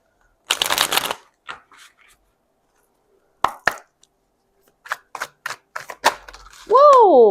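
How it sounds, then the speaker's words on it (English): An oracle card deck being shuffled, with a burst of riffling cards near the start and scattered short card taps and flicks afterward, ending in a sustained tonal sound; no speech. "I'm going to pull from the Singles and Relationship Oracle deck."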